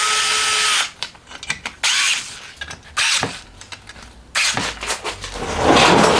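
A power tool driving screws into the side cover of a twin-cam 16-valve four-cylinder engine, in three loud, close whirring bursts separated by short pauses and small clicks, with no voices.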